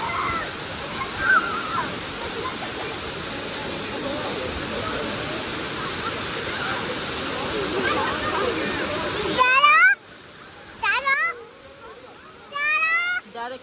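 Areekkal waterfall in Kerala pours in a dense, steady roar of falling water for about nine seconds, then cuts away to quieter surroundings where a few short bird-like chirps and brief sounds stand out.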